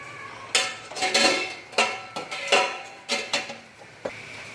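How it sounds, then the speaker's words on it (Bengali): Metal clinks and clanks from a cooking pot and its lid while a pumpkin and dried-fish dish is prepared, several sharp, ringing knocks spaced irregularly over a few seconds, close and clear. "ঢাকনা দিয়ে রাখলাম।"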